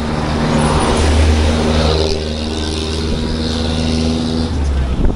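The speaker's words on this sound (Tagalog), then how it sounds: "Daming kasabay na truck." A truck grinds along a Laguna road beside a cyclist, its loud engine droning close with a low steady rumble that swells and eases, joined by other passing vehicles.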